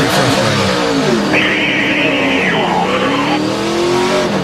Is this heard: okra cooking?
no